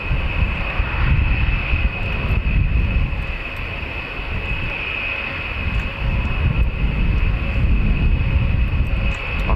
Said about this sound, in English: I've never seen a B-52 take off, so this is the first for me.